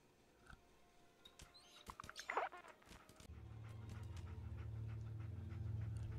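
A dog pants in Fallout 4, with quick breathy huffs rising midway, then a steady low ambient rumble from the game taking over toward the end.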